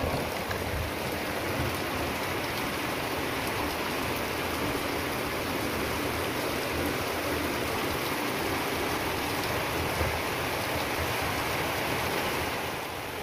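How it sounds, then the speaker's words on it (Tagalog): Heavy rain pours down steadily onto a rural yard where chickens shelter in a pig pen, a dense, constant hiss of falling water heard from close by with no voices. "Ang lakas ng ulan."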